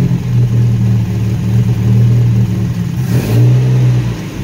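A 1975 Chevy LUV pickup engine, running off a gas can, idles and revs loudly and close, with a rough steady rumble that surges near the end.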